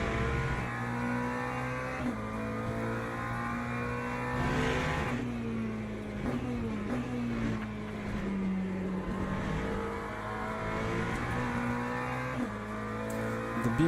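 BMW race car lapping in Le Mans Ultimate during an online multiclass race: a steady engine drone that shifts pitch as the car brakes, downshifts and accelerates through corners, close and continuous, no voices.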